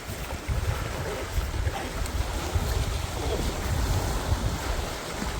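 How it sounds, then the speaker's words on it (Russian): Rough water on stormy Shchuchye Lake in Burabay, with waves churning and splashing against the shore beneath gusting wind buffeting the microphone; a continuous, fairly loud wash with no clear pauses. "Сегодня бушует озеро. Это Щучье озеро. Сегодня оно такое неспокойное."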